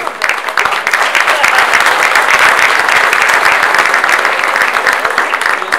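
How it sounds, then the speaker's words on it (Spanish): A crowd at a regional cultural panel discussion bursts into loud, dense applause that holds steady and close throughout, with faint voices underneath. "Por favor, un aplauso para Jackson."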